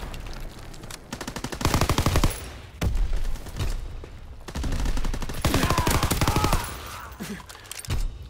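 Rapid automatic gunfire in the Call of Duty: WWII multiplayer beta, loud and close, coming in several sustained bursts separated by short pauses.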